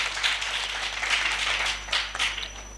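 Audience applause at a school quiz contest, Balade des génies 2024, greeting Lycée John Fitzgerald Kennedy against Collège Notre-Dame du Liban: a steady wash of many hands clapping that holds fairly even for a few seconds.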